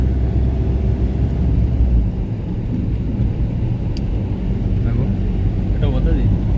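A car engine drones loud and steady with low rumble as the driver shifts into fourth gear, with conversation going on inside the car over the engine noise.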